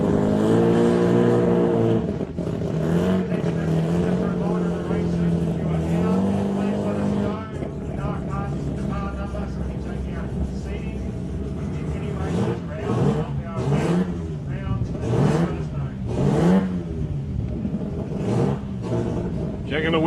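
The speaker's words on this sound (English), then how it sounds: "Here's that beautiful big blue Falcon coming back down past you" Big blue Falcon race car rumbling back down the drag strip at a Wild Bunch Wars event, a loud throaty engine note rising and falling under an announcer's commentary.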